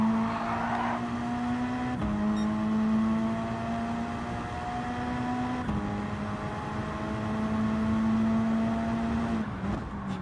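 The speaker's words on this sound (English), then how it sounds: "How good this car sounds with the headphones that I've plugged into the mic" Race car engine in a sim racing game at Watkins Glen: a steady, loud in-car drone held at high revs, with a few sharp gear-shift drops and another car faintly audible nearby.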